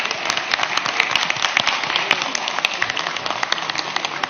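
Parliamentary plenary chamber filling with sustained applause from many members, dense rapid clapping at an even level throughout with no talk over it.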